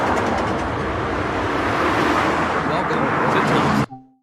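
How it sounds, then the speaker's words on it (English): Heavy freight cars of a radioactive cargo train in Train Sim World, American West: a loud, dense, continuous rumble and rattle of rolling wagons that cuts off abruptly near the end, leaving a brief quiet tail. "the cars are way too loud"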